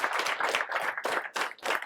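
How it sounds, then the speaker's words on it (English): A high school football team gives itself a round of applause, dense group clapping in several surging waves that stay close and loud throughout. "Give yourselves a round of applause."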